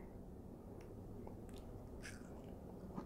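A bite into a crunchy fruit with juicy, soft flesh, heard up close and quietly as a few brief crisp crunches and chewing sounds over low background noise.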